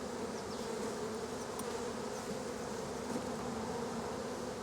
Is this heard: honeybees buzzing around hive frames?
yes